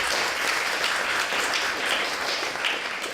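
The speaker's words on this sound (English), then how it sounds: "Give me applause if you can last 10 minutes." A stand-up comedy audience applauds, a continuous, even patter of many hands heard from within the room, sustained without pause for a few seconds.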